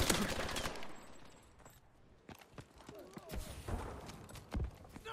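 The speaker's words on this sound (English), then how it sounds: "Sniper fire!" Gunfire in a modern military shooter game, a burst of rapid sharp shots up front followed by scattered single cracks and mechanical clicks, mid-distance over faint ambient noise.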